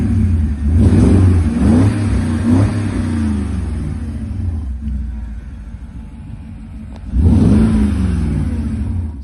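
A Porsche engine revving: deep rumbling blips rising and falling several times, then settling to a lower idle before one more strong rev near the end, close and loud with no talk.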